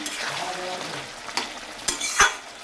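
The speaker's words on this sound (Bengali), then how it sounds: "এই যে দেখতে পাচ্ছেন আমি কাঁকড়ার আলুটা কষাচ্ছি" Potatoes for a crab curry stir-fried with ginger in a pan: a close, dense sizzle with a few quick spatula scrapes and knocks near the end, no voices.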